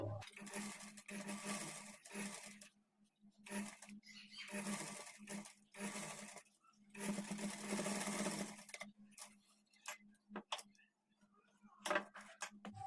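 Sewing machine stitching elastic into the waistband of churidar trousers, running in several bursts of steady whirring with short pauses between, close and fairly loud, no talking.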